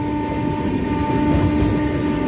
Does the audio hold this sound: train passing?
yes